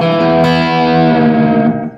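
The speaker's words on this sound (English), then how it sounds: "So here's the echo." A Gretsch guitar through a Friedman Smallbox amp rings out with a slapback echo, sustaining dense and distorted, then fading away at the close.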